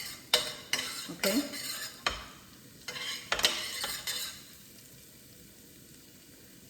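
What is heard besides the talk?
garlic stir frying in a pan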